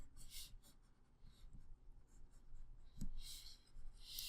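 Pencil drawing on paper, very quiet scratchy strokes in short intermittent bursts, close and faint with soft breathing underneath.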